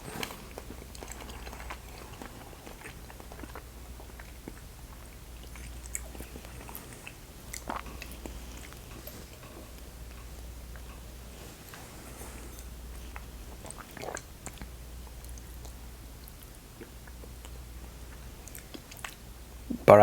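Quiet, close chewing of dark chocolate, soft intermittent bites and squishy mastication spread across a long stretch over a faint low hum.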